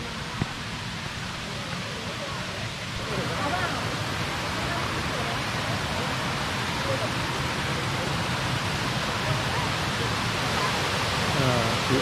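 The first tier of Erawan Waterfall in Erawan National Park, Thailand, pours in a constant broad roar of rushing water, steady and close for the whole stretch.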